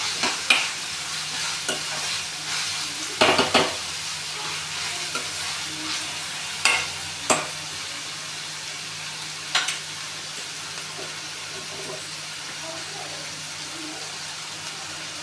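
Onion, tomato, ginger and garlic frying in a pan, a steady soft sizzle with occasional clinks and scrapes of a stirring spoon, close and moderately loud, no talk.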